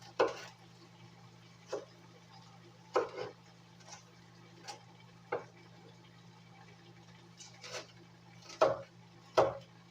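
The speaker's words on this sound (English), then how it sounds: "just until I get through cutting up all of these good parts that's going to go with the meat" A knife chops vegetables on a cutting board while making mushroom burgers, with irregular, fairly faint thuds spaced a second or so apart over a low steady hum.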